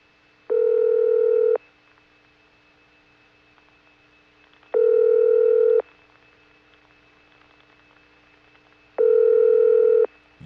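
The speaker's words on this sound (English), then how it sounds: "This ringtone is not the ring of the office we're calling. It's the ringtone of the Jacksonville AIS." Ringback tone from the Jacksonville AIS telephone exchange in Florida, 1978, heard on a Siemens motor switch network: three steady, loud one-second tonal bursts spaced about four seconds apart over faint line hiss.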